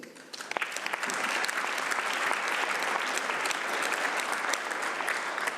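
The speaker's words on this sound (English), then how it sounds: "Je vous remercie de les applaudir." Audience applause at the closing ceremony of the 2019 UIA congress in Luxembourg, a large hall of steady, dense clapping that swells in after a brief quieter start and holds evenly throughout.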